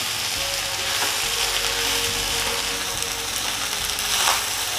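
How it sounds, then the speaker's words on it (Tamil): Fried rice being stirred in a frying pan, steady broadband sizzle with scraping and clinking of the utensil over nearly five seconds, close and fairly loud, no talk. "மெதுவாக எடுத்து கிண்டி விடுங்க, இல்லைன்னா சாதம் வந்து உங்களுக்கு உடஞ்சி போயிடும்."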